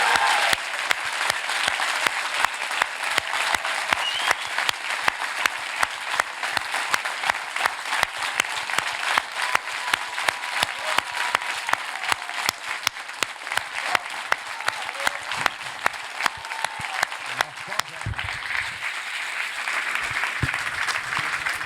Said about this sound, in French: Et maintenant, on va faire un vrai applaudissement.